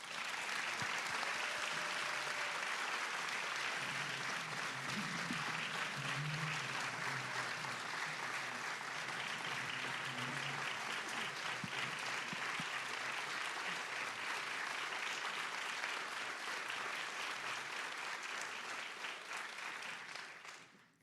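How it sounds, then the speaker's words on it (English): A seated audience at the Clinton Presidential Center gives a long round of applause, steady, full clapping from many hands that holds evenly for about twenty seconds before tapering off. "And I wish if you wouldn't mind indulging by giving them a nice round of applause."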